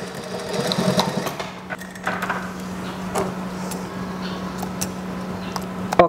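A sewing machine stitches an elastic waistband onto the side of a school skirt, running in a steady close hum with a few light clicks and fabric handling noises around it.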